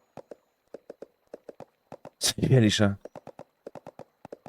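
Horse hooves clip-clop at a steady walking rhythm in the Storm Horse Simulator video game, light repeated hoofbeats that stop briefly while someone speaks over them and then resume.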